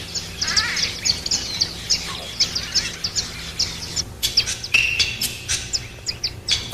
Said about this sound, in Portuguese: martinetes de garganta marrom constituem outra espécie que faz ninho em covas.